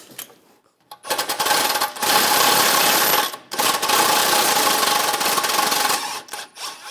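A bolt being pulled from the rear hub of a 2009–2017 Volkswagen Tiguan during wheel bearing replacement, with a loud, sustained, harsh metallic grinding and rattling in two long runs, broken by short pauses and small clinks near the end.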